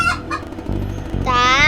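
Close, loud chicken clucking in short bursts, ending in a drawn-out, higher squawk.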